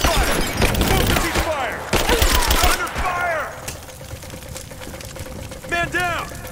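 Bursts of gunfire in the Rise of the Tomb Raider video game, dense rapid shots early and a few later cracks, mixed with shouting voices and splashing water.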